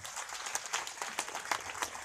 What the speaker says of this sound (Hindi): मैं चाहूंगा अभी एक जोरदार तालियां हमारे देश के शहीदों के नाम